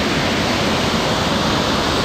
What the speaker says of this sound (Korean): 계속 비가 와가지고 계곡이 물이 굉장히 많은 것 같습니다.